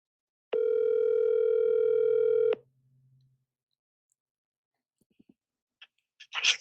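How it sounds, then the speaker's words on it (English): A telephone dial tone sounds as a steady, loud hum for about two seconds, then cuts off into near silence broken by a few faint clicks and a brief voice. "I'm going to call him on the phone."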